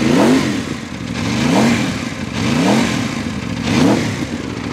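An Aprilia RSV4 Factory 1100 superbike with the factory exhaust revs up and settles back in four repeated, loud close-up throttle blips, rising and falling in a steady rhythm.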